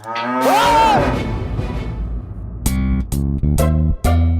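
A rickety old motorbike gives a low moaning, moo-like drone and then a series of loud, evenly spaced honking blasts that stop and start, standing alone without any talk.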